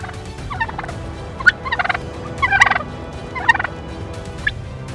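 Wild turkeys gobble repeatedly outdoors, with bursts of rattling calls rising over a steady low background hum, some gobbles nearer and louder than others.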